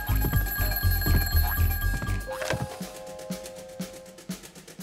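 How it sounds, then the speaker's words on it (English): A telephone bell rings in a cartoon storybook scene, a bright trilling tone that repeats over a busy background of music and effects, clearly audible and close, with no talk over it. "Then the phone rang."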